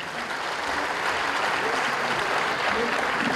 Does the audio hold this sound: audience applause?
yes